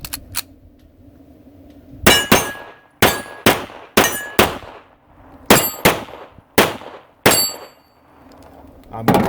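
Arsenal Strike One pistol shots ring out at an outdoor range, about a dozen sharp cracks in uneven pairs and singles, several followed by a bright metallic clang from steel targets.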